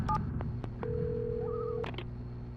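In the video game Alan Wake Remastered, a telephone is dialed: several short keypad tones, then a long steady tone and a warbling ring signal, ending with more quick beeps, quiet against a low background hum.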